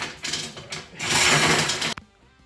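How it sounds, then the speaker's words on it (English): A ridge reamer cuts the worn lip from the top of an engine cylinder, a close, harsh, grinding metallic scrape in short pulls that stops abruptly and leaves a faint ringing tail. "the ridge reamer is just starting to take the top edge, the bottom edge of the lip off"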